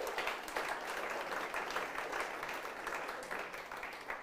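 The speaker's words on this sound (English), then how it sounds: "So big round of applause." Audience applause at an awards event announcing hi-tech finalists in Auckland, a steady wash of many hands clapping, fairly quiet and distant, continuing evenly throughout.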